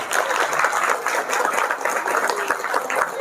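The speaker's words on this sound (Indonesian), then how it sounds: "Tepuk tangan." Audience applause at an Indonesian NU gathering, a steady, dense clapping from a sizable crowd that stays at an even level throughout.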